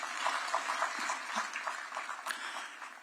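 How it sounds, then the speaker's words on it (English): A graduation ceremony crowd at Uzima University gives sustained applause, a dense wash of many hands clapping evenly at a moderate distance throughout. "Let's give them another round of applause."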